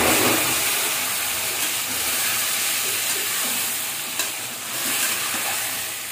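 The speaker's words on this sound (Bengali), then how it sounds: "ভাজা পেঁয়াজের ভিতর লাউটা দিয়ে দিচ্ছি।" Chopped bottle gourd is stirred into onions frying in a pan, giving a steady loud sizzle and hiss with scraping stir sounds throughout, no voices.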